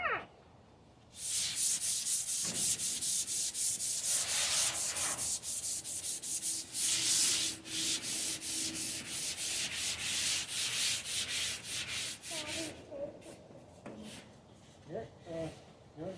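A primer coat on a car bed built from a real 1952 Plymouth Cranbrook is hand sanded with 300 grit sandpaper, giving a steady close scratchy rubbing that runs for several seconds and then breaks into shorter strokes near the end.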